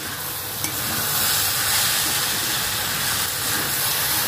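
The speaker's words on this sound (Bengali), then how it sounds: "অ্যাড করে দেবো পনিরটা, ভালো করে কষিয়ে নেব।" Paneer sautés in a hot pan with red chili powder, giving a loud, continuous hiss and sizzle that holds steady throughout, close by and with no voices.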